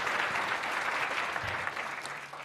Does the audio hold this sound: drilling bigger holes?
no